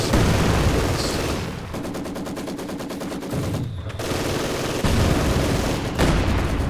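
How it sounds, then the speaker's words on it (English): Heavy machine gun fire in Company of Heroes 2, a World War II strategy game, rattling in long sustained bursts with rapid regular shots, loud and close under a low battlefield rumble, with a brief pause before firing resumes. "HMG squad is going to start to engage whatever it can in that position."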